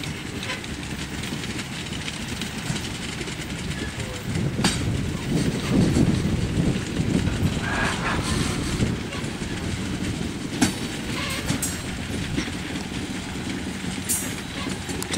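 A CSX freight train rolls past close by with a steady rumble and rhythmic clickety-clack of railcars on the track, sustained throughout with a faint voice briefly under it.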